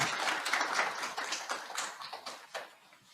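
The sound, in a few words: audience applause for a consultant after a lecture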